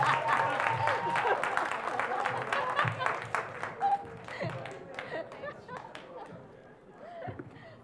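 Applause from attendees at an internet governance town hall in Bangkok, a thin, somewhat tired clapping that tapers off over several seconds, with murmuring voices underneath.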